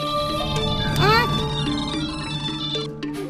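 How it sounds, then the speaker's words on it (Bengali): A phone rings with a tonal electronic ringtone at moderate level over a domestic TV-drama scene, with a short warbling chirp near the start and the tone continuing steadily throughout. "আপনি ফোনটা ধরুন, আপনার রিং বাজছে, দেখুন।"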